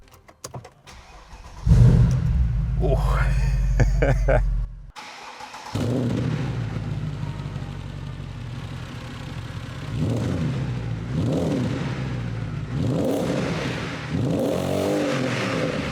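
A Mercedes-AMG big block V8 starts with a loud bark, then revs repeatedly in deep, rising and falling surges that swell and fade at close range, with a brief exclamation from a voice.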